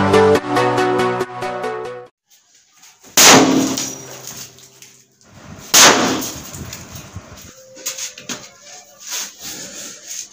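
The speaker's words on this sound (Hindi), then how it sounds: "बहुत ही हैवी किस्म का जो है वो ब्लास्ट हुआ है" A homemade matchbox bomb goes off indoors with two sharp, loud blasts that ring and echo off the walls, each followed by a rattling, decaying tail. Tonal music plays at the start, and no one speaks.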